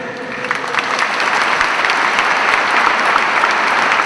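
Steady, dense audience applause at a talk by a Catholic priest in Brussels, loud and sustained with no gaps throughout.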